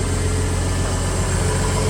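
Close, steady idle of a 1986 Ford F-150 truck engine in freezing weather, with a continuous low rumble and no pauses or voices.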